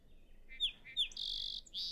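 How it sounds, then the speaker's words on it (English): A song sparrow sings a short phrase: a couple of quick chirps followed by a buzzy trill, clear against quiet background. "That sounds like a song sparrow."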